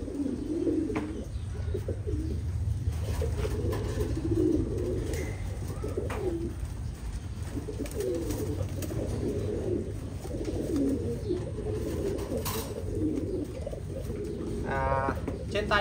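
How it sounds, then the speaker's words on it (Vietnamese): A Titan Thai pigeon coos repeatedly in low, rolling phrases at close range, with a few faint chirps and rustles in between. "Trên tay mình đây là con chim bồ câu giống Titan Thái siêu thị."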